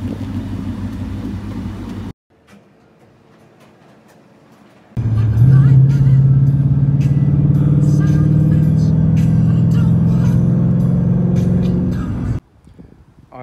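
A Ford Mustang GT engine, loud and close, drones steadily with a rising tone after a short quiet gap, cutting off abruptly near the end.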